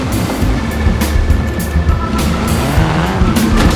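Ford Raptor driving in the racing game Forza Horizon 4, a loud continuous engine drone with brief tire noise, heard alone with no talking.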